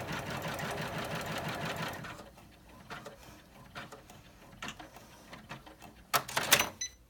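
An embroidery machine stitching an in-the-hoop pouch design: a dense, steady mechanical whirr for two seconds, then quieter scattered ticks and clicks, building to a louder burst of clatter near the end.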